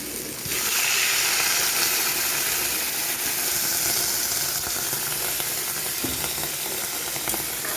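Water poured into a hot pan of shukto vegetables with drumsticks hisses into a loud, steady, close sizzle that holds with faint crackles and a brief clink near the end.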